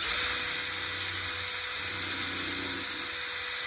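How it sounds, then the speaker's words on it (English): A power drill bores a pilot hole in wood, a steady high whirring hiss that holds constant for several seconds after a brief louder start. "the way I do that is I drill it first, otherwise you risk splitting everything."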